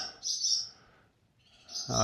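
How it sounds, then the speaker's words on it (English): Swallows nesting in a farm barn give off high, bright chirps in two short bursts, one near the start and another at the end, with a low voice briefly coming in at the close. "can't think of what those birds are, swallows nesting up in here again this year"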